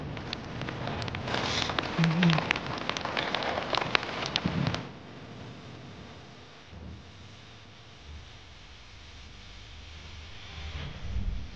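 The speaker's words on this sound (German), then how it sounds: "Und jetzt fängt es auch also noch an zu regnen und zu hageln." Rain and hail patter and rattle on a hiking trail in the Scottish Highlands, loud and dense for the first few seconds with wind buffeting the microphone, then easing to a softer steady hiss.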